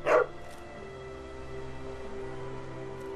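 A single short dog bark at the start from the dog character in The Walking Dead Season 2 video game, followed by a low steady game ambience hum.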